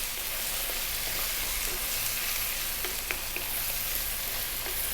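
A pasta sauce with grated Parmesan and cheddar being stirred in a pan, giving a soft continuous sizzle with scattered faint scrapes and clicks of the spoon, fairly quiet and without talk.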